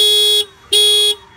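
A scooter horn wired together with a fog light blares twice, each a loud steady electronic tone of about half a second, close and alone.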